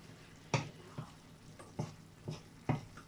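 Chilli bolognese frying on a cooker, stirred in a pan: a steady background sizzle broken by five sharp scraping knocks of the spoon at uneven intervals, close and alone.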